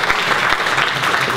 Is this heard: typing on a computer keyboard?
no